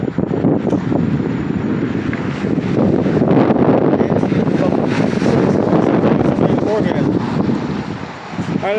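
Strong outdoor wind buffets the microphone, a loud rumbling roar with gusty swells that builds midway and eases near the end.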